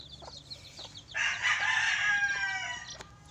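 Chickens cluck and a rooster crows near a brood of newly hatched chicks on a small farm, a loud sustained call rising over a low murmur of clucking close by.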